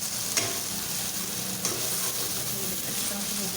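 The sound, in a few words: peas and cabbage frying in a pan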